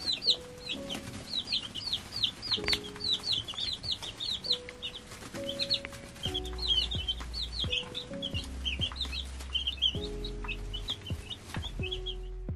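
Two-week-old chicks peep in rapid, high, repeated chirps at close range, joined by intermittent soft music-like tones and bumps underneath, no talking.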